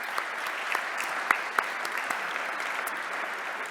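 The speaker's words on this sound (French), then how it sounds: "on l'applaudit." A crowd claps steadily at a French prize ceremony for the 2020 cycling-friendly cities ranking, a dense, even patter of many hands with a few sharper claps standing out, held at a moderate level throughout.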